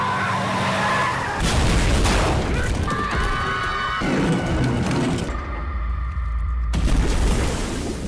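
A bus in a film swerves off a bridge and plunges toward a river, heard as loud skidding and crashing impacts with heavy booming thuds and sustained rumble across several seconds, mixed with dramatic soundtrack layers.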